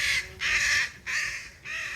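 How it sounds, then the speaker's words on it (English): Crows cawing harshly in a squabble, four loud drawn-out calls in a steady rhythm, close by and with no talk over them. "Crows are just fighting."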